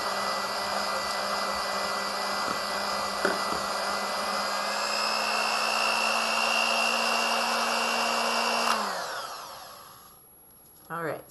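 An electric mixer mixing lemon cheesecake mousse whirs at a steady, high, continuous drone for about nine seconds, then winds down and stops, leaving a brief clatter afterward.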